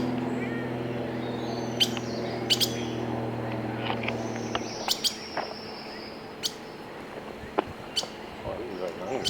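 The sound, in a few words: bird chirping while being fed on a fence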